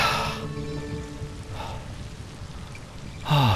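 Freezing cold rain in the survival horror game Zombi, a steady hiss of rainfall on surfaces with a few louder swells and a short tonal blip near the end.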